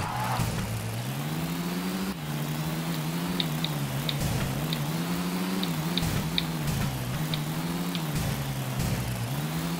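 A car engine drones steadily in the Tony Hawk's Underground video game, with a wavering pitch as the vehicle drives along, accompanied by faint periodic ticking, loud and continuous.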